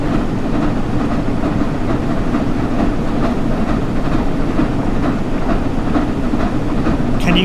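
A train running on the East Coastway route in Train Sim World 6 gives a loud, steady rumble with a rhythmic clickety-clack of wheels over rail joints that continues throughout, with no voices.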